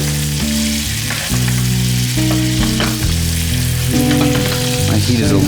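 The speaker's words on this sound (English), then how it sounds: "This will fry, making it nice and crispy and edible." Sage leaves frying in a pan while a peppered sirloin steak cooks, a loud, steady, crackling sizzle that runs throughout with no talk, accompanied by a low sustained hum.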